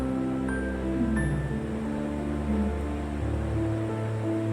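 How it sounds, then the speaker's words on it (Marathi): A glassful of water is poured into a pan of tomato curry, making a continuous splashing, gurgling pour for several seconds with a low background hum and no talking. "1 ग्लास पाणी टाकायचं"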